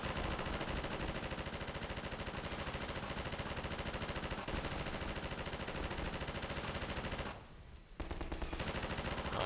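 Sustained rapid gunfire in Half-Life 2, a dense, steady stream of automatic shots that runs loud and continuous, breaking off for a brief moment near the end before resuming.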